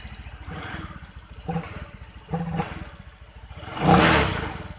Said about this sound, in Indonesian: kalau diputar ke kiri, mesin akan RPM-nya semakin naik.